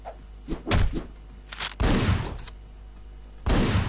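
Weapon thrown at an enemy in Hotline Miami 2, heard as several heavy game impact thuds and gunfire-like bursts in uneven clusters, loud and close with no talk.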